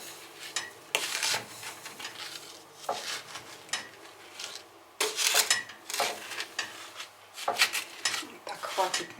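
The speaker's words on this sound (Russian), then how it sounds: "Сверху тыкву засыпаем сахаром. Немного перемешиваем." Pumpkin pieces covered with sugar being stirred in a pot, giving gritty scraping and rubbing bursts of spoon against cookware in irregular strokes, close and fairly loud, with some talking between strokes.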